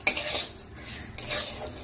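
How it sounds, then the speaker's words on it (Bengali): Rice fries in ghee while a spoon stirs and scrapes it around the pot, giving close, brisk metallic scraping over a soft sizzle, with no talk. "চালটাকে ততক্ষণই ভাজতে হবে যতক্ষণ না চালটা হালকা হয়ে সাদা হয়ে আসে।"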